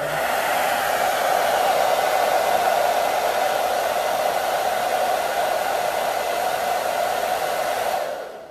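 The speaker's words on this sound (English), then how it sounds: "I turn on the air dryer and I kind of just hold this here for a bit" A hair dryer blows steadily and loudly for several seconds, a constant whooshing hum, then cuts off at the end.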